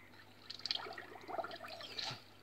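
Soft, close splashing and trickling water in a ritual bath of roses and laurel, with scattered small splashes and drips over about two seconds.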